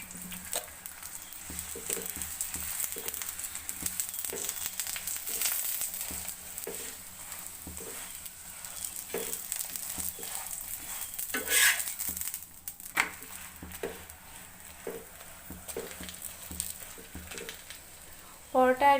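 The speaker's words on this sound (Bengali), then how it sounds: "আমি মুচমুচে করে ধীরে ধীরে আস্তে আস্তে ভেজে নিচ্ছি" A paratha fries slowly in an oiled pan, crisping with a low, constant sizzle and small crackles, broken now and then by light utensil taps.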